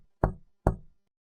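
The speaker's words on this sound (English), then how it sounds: "3 slow knocks against the window." Two slow, solid knocks on a window, evenly spaced and close, each a sharp thud with a short fading tail before silence.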